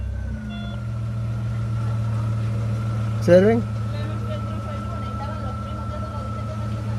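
A Chevrolet Zafira idles steadily after a head gasket replacement, a smooth low hum with no misfire, while someone speaks briefly over it.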